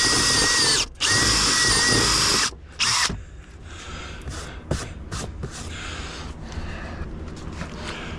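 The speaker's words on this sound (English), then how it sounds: "Here we go with the 3/8 inch hole." Power drill boring a 3/8 inch hole while installing a floor safe in a Jeep Wrangler 392 Hemi: loud steady whine with brief stops and restarts, then a quieter grinding, rattling stretch.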